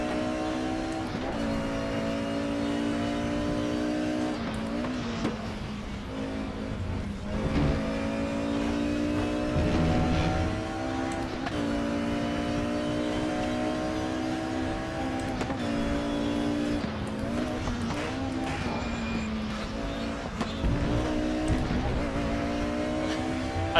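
Race car engine in the RaceRoom Racing Experience sim racing game, holding a steady loud harmonic drone with repeated rises and drops in pitch as the revs climb and fall through gear changes, alone with no talk.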